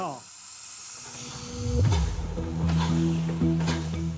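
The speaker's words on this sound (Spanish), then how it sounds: "Esto es para que el vapor entre en el pistón." Steam hisses inside a coal-fired steam locomotive as steam is fed to the piston, a loud rushing hiss with mechanical tones and clanks and a voice speaking over it.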